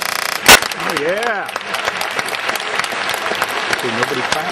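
Dense audience applause and cheering fill the whole stretch, with a sharp clap-like bang near the start and excited voices shouting and whooping over the steady clapping.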